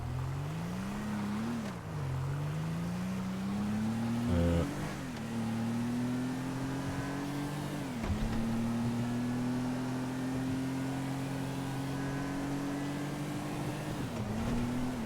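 A car driving in the video game GTA, its engine droning steadily with repeated rises in pitch as it revs and shifts through gears, loud and close throughout.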